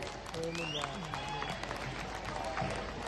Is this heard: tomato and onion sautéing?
no